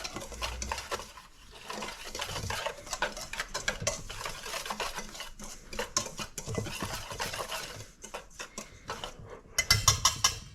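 Dry ingredients for corn muffins being stirred together in a bowl, a steady scraping, clinking stir with quick repeated strokes throughout, louder bursts near the end; no talking.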